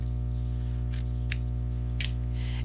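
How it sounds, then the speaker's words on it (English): Scissors snip down the center of a quilt star block made of fabric, giving three or four crisp, brief cuts at a steady interval over a constant low electrical hum. "So I'm again going to cut down the center of this"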